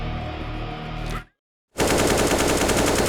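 Loud video game machine gun fire rattles in rapid bursts, drops into a moment of complete silence, then resumes as a dense, continuous stream of close automatic shots.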